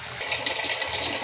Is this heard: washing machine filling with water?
yes